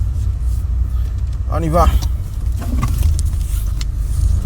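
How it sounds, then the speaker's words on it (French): Nissan Sunny automatic car engine idling and running in a low, steady rumble close up, with a brief rising tone partway through and someone speaking briefly over it. "je vous laisse écouter le bruit du moteur"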